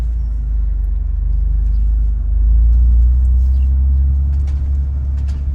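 Toyota GR Corolla with a manual gearbox pulling away from a stop, a loud, low, steady engine rumble that swells slightly as load comes on, heard from inside the car.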